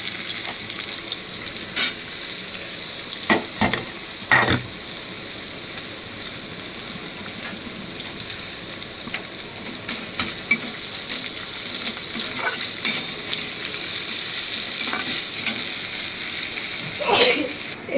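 Onions hit a small amount of hot oil with cinnamon, bay leaf and cardamom for a mutton and potato curry. They crackle in a dense, continuous sizzle, and a few louder stirring knocks punctuate it.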